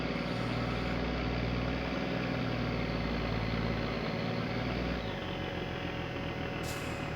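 A sewage vacuum truck's pump runs at full power in the My Summer Car video game, a loud, steady mechanical drone that holds without a break, its tone shifting slightly partway through.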